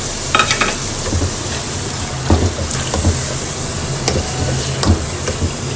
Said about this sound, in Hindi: तो मसाला सारा भुन गया और इसमें डाल रही हूँ प्याज।